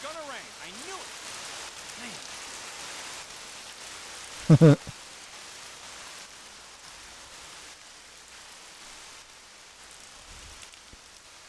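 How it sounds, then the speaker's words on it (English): Steady rain falls across a scene in the video game Lost Odyssey, a soft even hiss running throughout. Someone speaks briefly near the start, and a short loud thump cuts in midway. "Oh, great. It's raining."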